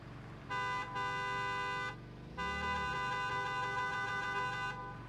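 Two long car horn blasts in a video game, the first about a second and a half, then a longer one after a short gap, loud and steady against a low engine rumble.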